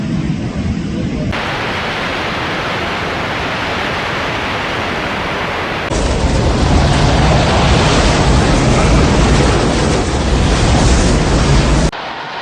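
Rushing brown floodwater pouring through city streets, a loud, steady roar of turbulent water that swells louder partway through and continues without pause.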